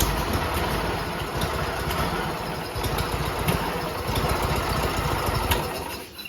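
A big lawn mower engine idles steadily up close, a continuous rough, chugging rumble that stays loud before dropping off at the very end.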